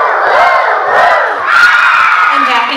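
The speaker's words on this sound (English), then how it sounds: "Let's give Eileen the roller coaster cheer" A group of fourth-grade children at a school morning assembly shout the roller coaster cheer together, a loud sustained rising and falling group whoop lasting a few seconds, close and filling the room.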